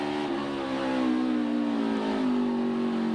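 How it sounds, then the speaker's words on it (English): A NASCAR stock car engine at the COTA road course drones steadily, its pitch sliding gradually downward as the car decelerates, loud and continuous for a few seconds. "Listen to the engine here of AJ."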